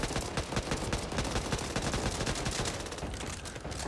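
Dense, continuous gunfire in the co-op zombie shooter Back 4 Blood, a rapid automatic fusillade of overlapping shots that stays loud and near for the whole stretch, with no voices over it.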